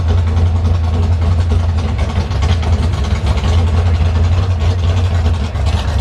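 A Dodge Dakota pickup truck idles at a drag strip, its engine a loud, steady, low rumble close by, holding constant throughout with no voices.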